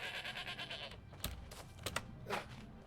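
Goat bleats in the game New World, a few short nasal calls spread over a few seconds, with soft clicking and other game sounds in between and no talk.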